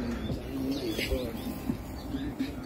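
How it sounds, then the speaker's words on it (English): Warblers and other birds call from a catalpa tree, with short chirps and cooing notes scattered over steady outdoor background noise, moderately near but not loud. "on this I find some birds activity some warblers"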